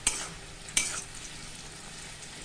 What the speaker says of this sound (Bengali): নুন দিয়ে ভালো করে নেড়ে চেড়ে